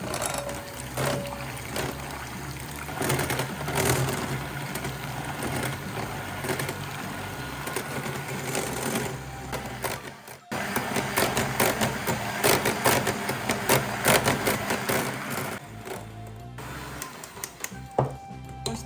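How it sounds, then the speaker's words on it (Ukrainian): An electric mixer whips 250 g of cream with 90 g of powdered sugar for tiramisu, giving a steady whirring hum with rattling beater noise that pauses briefly midway and then continues, close by with no talking. "беремо 250 грам вершків, 90 г пудри та збиваємо"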